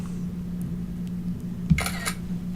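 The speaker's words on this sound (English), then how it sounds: "It makes that snap noise, and it actually now has copied this picture to the clipboard" A Mac screenshot plays its short camera-shutter snap once, a crisp close click with a quick second burst, over a steady low computer hum.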